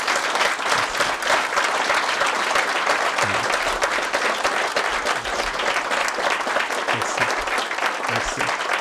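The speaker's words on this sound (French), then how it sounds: "je pense que ça mérite encore des applaudissements" Loud, dense applause from the audience at an international award ceremony, continuous close clapping of many hands throughout without a break or any talk.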